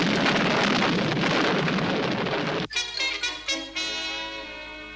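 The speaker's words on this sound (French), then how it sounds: "Personne ne pourrait rien faire dans une tempête aussi déchaînée." A raging storm in a 1964 vintage TV episode: heavy, constant rain and wind roar for several seconds, then a sharp thunder crack followed by rolling, pulsing rumbles.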